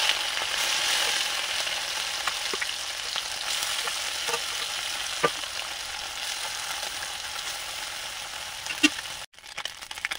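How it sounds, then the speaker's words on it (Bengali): Small mourola fish fry in hot oil in a kadai, giving a dense, steady sizzle with occasional crackles and pops, close and continuous before a brief stir near the end. "বাকি মৌরলা মাছগুলো আমি যেগুলো বাকি আছে সেগুলো ভেজে নেব"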